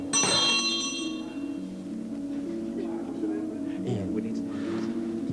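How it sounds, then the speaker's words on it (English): A bell struck once at the start, ringing brightly and decaying over about a second, followed by a low steady room hum with soft murmuring voices. "Do you want to ring the bell?"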